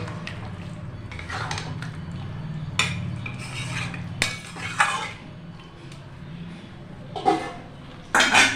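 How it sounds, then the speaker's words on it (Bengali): Chicken pieces being stirred and fried in a pan over low gas for dahi chicken kosha, with soft sizzling under scattered scraping and clinking strokes of a utensil against the pan, a few louder knocks toward the end. "চিকেনটাকে ভালো করে কষিয়ে নেব"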